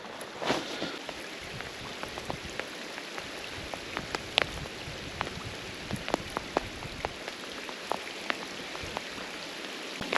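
Light rain patters steadily outdoors on the Dniester River while fishing, with scattered distinct drops standing out against a soft, continuous hiss.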